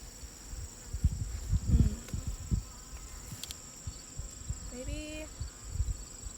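Honeybees buzz around an open hive during a mite check, a thin, steady hum with a few closer passes, while a person speaks quietly over it.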